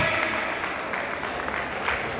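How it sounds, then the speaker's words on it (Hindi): Steady applause from a live poetry event audience for two performers, a dense, even wash of clapping filling the room at moderate loudness with no pauses. "एक बार इनके लिए तालियां, दोनों के लिए"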